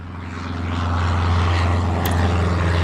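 In the airport game Airport Madness, an airliner takes off with a steady propeller-and-engine drone that swells gradually to a loud, sustained roar and holds there.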